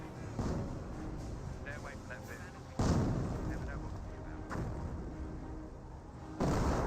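A 60mm mortar fires in the game Company of Heroes, three heavy booms at irregular intervals, each loud and echoing away into rumbling battle noise, with a voice talking faintly underneath.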